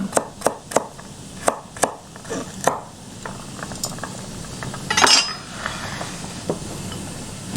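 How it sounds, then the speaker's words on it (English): A knife chops a carrot on a cutting board in a quick run of sharp, evenly spaced knocks, then slower, fainter taps with a brief clatter in the middle. "That's how I cut the carrot."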